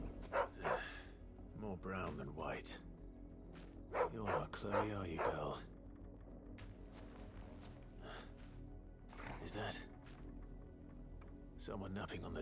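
A dog barks in short bursts with yips and whimpers inside the video game Final Fantasy 16, spread over the stretch and mixed with a voice speaking in between.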